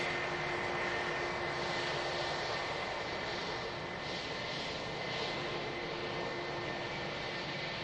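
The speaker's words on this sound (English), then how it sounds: "Can see the next aircraft on a fairly long final." An aircraft on a long final approach into Manchester Airport makes a steady, distant engine roar that holds evenly throughout, with a faint tonal whine above it.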